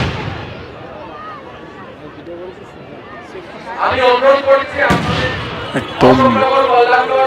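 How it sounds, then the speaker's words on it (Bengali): Someone talks loudly throughout while New Year fireworks burst one after another, with a couple of sharp bangs and crackles cutting through his voice. "প্রচুর বাজি রয়েছে, এবং সেই বাজিগুলো কিন্তু একটার পর একটা পোড়ানো হচ্ছে নিউ ইয়ার সেলিব্রেশন।"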